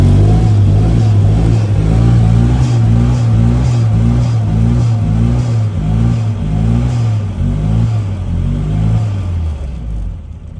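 Turbocharged 1293cc Mini engine revving while still cold, loud and close, with steady mid-range engine drone rising and falling through repeated throttle blips over about ten seconds.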